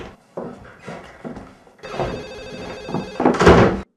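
A telephone rings indoors in a drama scene, with bursts of ringing and some louder knocking or clattering near the end.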